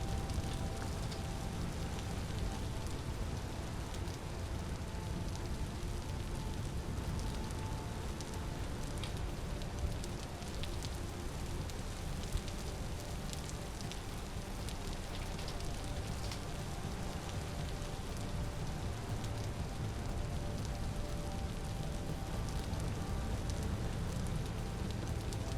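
Steady rain pours down in the video game Vintage Story, a dense, even hiss of drops that holds for the whole stretch with no voices over it.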